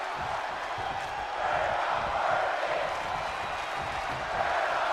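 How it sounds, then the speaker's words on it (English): Wrestling arena crowd chanting "We're not worthy": a steady, distant roar of many voices carrying a rhythmic chant, swelling slightly midway and holding at moderate loudness throughout. "Again, the crowd chanting, "We're not worthy.""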